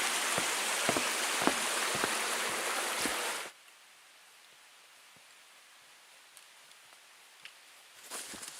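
Rain falls on a wet forest trail near wooden footbridges in Pictured Rocks, Michigan, in December: a loud, steady hiss with dripping taps for about three seconds, then it cuts to quiet with only a few scattered drips.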